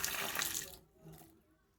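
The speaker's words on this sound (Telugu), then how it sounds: "ట్యాప్ లైన్ వస్తుంది కదా వాటర్" Water gushes from a tap in a steady, close hiss for under a second, then cuts off, leaving faint room noise.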